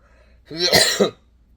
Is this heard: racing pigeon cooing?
no